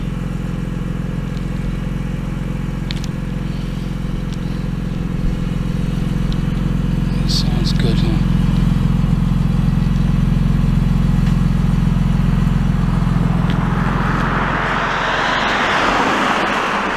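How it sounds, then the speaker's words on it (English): A steady low engine rumble from a car exhaust muffler, loud and continuous, rising into a broader roar near the end as the car pulls away on Angeles Crest Highway. "Hear that muffler."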